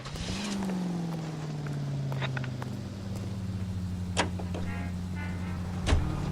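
In the L.A. Noire video game, a car cruises with a steady low engine drone that rises briefly at the start, then holds even, with a couple of faint clicks.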